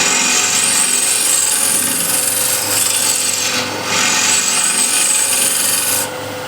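A Tomasic refiner scraper works against a turned wooden ball spinning on a lathe, giving a loud, continuous, close-up rasping hiss with a slight dip midway before the sound eases near the end.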